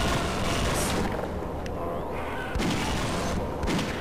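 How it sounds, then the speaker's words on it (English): Dense, continuous booming and crackling explosions roar through a video game scene, loud and sustained, with heavy low rumble and sharper blasts standing out. "now the place is blowing up again"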